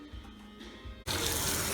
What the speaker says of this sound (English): Now, Jenny's putting a little water to fill